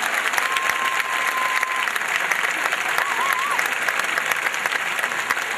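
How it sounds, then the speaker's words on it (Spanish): An audience applauds dense and loud after a school performance with a choir, with a faint whistle and a few voices rising above the steady clapping. "un aplauso muy grande para ellos."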